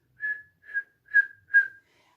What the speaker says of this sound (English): So I will whistle 4 times